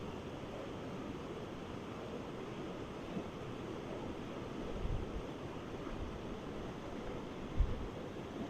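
A rushing wilderness river in rain, a steady broadband wash of water flowing nearby with no breaks, faint and even throughout, with a couple of soft thumps near the end.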